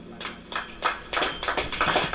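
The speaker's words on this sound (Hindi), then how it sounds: "ताली बजाइए।" A sermon audience claps their hands in scattered, uneven bursts, a few rounds of moderately close applause with no talking.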